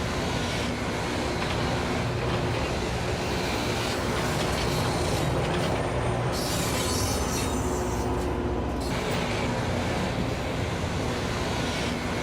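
A train rushes in with a loud, continuous roar and rumble of wheels on rails, steady and close throughout with no talking.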